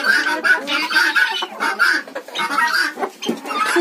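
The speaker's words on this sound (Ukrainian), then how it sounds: "Вибігла одна курочка." Hens clucking close by in a rural Ukrainian coop on a rainy day, a dense, continuous chorus of repeated clucks and short calls with no talking.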